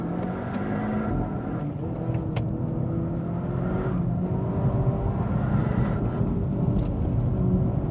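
A Zeekr front-wheel-drive car engine revs and drones continuously while downshifting, pitch rising and falling with gear changes, loud and close, no talking.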